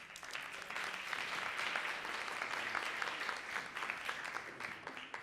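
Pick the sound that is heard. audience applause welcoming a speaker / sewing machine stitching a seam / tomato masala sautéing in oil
audience applause welcoming a speaker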